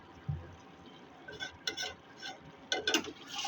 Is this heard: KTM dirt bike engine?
no